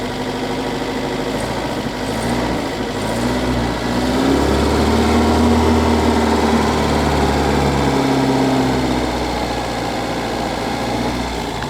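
A 1973 Citroen DS engine revs up as the accelerator is pressed, a steady close idle rising into a louder, higher-pitched climb around the middle and holding there before easing slightly, with no talk.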